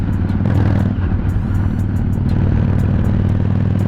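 A 2002 Honda VT750 Shadow cruiser motorcycle engine idling nearby, a loud steady low rumble with an even throb and some light mechanical clatter.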